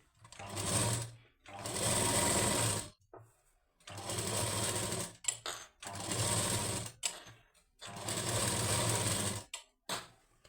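A sewing machine runs along a blouse lining in four or five loud, close bursts of one to two seconds each, separated by short stops and small clicks.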